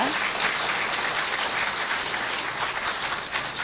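Sustained audience applause at a 2007 arts award ceremony in Korea, a dense, even wash of many hands clapping close and loud for the whole stretch, with no talk over it.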